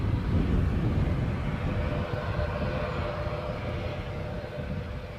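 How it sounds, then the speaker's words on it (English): At an airport, an ATR turboprop airliner's engines give a steady, loud, rumbling drone with a faint tonal hum, holding at nearly constant level throughout and easing off slightly midway, with no voices over it. "You'll probably hear that ATR strumming now"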